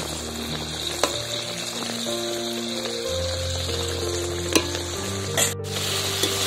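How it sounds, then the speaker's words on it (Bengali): Eggplant being stirred through sizzling mango pickle gravy in a pan, with a steady fry hiss, a low hum and a few sharp utensil clicks and scrapes scattered throughout, no voices. "পাশ দিয়ে দেব আমের আচারের গ্রেভিটা, একটু নাড়াচাড়া করে দেব।"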